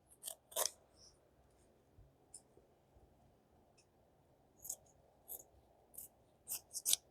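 Scissors snipping out a rhinestone shirt design, soft scattered crisp snips close by in a quiet room, a cluster early then several more toward the end.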